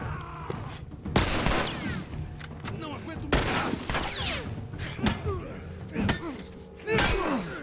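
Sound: gunfire exchange in a video game

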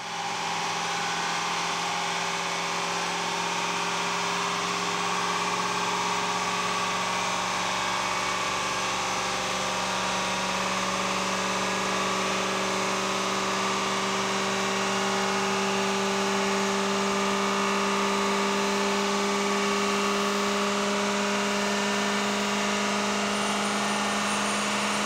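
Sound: Ford 6.0 Power Stroke diesel truck running on dyno rollers

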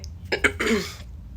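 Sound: cough

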